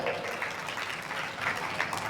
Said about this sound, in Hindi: एक बार जैन धर्म के लिए जोरदार तालियां